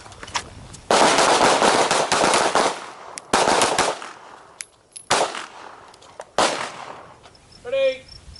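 Handguns fire at targets in a combatives training class, with loud close clusters of rapid shots separated by short pauses and brief voices between volleys.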